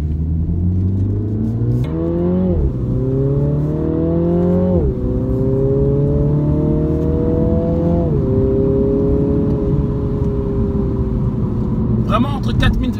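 A Mini Clubman JCW accelerates hard through several gears, its engine note climbing steadily then dropping at each upshift, loud and close from inside the car, with brief voice near the end.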